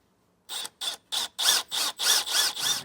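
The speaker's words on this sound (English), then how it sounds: "And we'll drill that out." A power drill whirs in seven short bursts with brief gaps between them, loud and close, after a moment of silence, drilling a hole in a 2020 Entegra motorhome.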